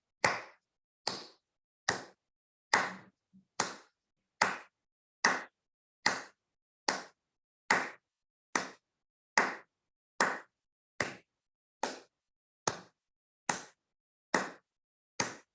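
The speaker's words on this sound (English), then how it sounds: "I'm just going to keep clapping like this" Evenly spaced hand claps, about eighteen sharp strikes in a steady beat, close and distinct with silence between them, with one small extra tap near the start; no voices.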